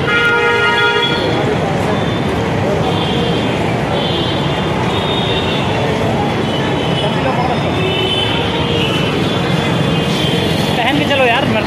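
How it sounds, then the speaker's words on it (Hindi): A loud vehicle horn blares in busy street traffic at a Ludhiana market bazaar, its sustained tones standing out near the start over a constant, dense roar of surrounding traffic and crowd noise. "इतना तेज हॉर्न मार रहा है।"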